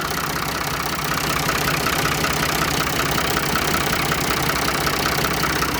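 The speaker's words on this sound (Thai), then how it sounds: "เดี๋ยวดับเครื่องก่อน" A Ford 4630 tractor engine idles steadily and loudly close by, a constant rumbling drone with a faint knock running through it and no voices.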